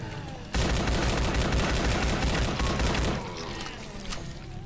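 M16 rifle fire in the zombie shooter Day of the Zombie, a dense, loud burst of rapid automatic shots lasting about two and a half seconds, then a quieter tail of scattered echoes.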